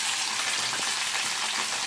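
Tomato sizzles in hot oil with onion and chili in a pan for an Assamese vegetable curry, a steady close crackle and hiss with faint stirring.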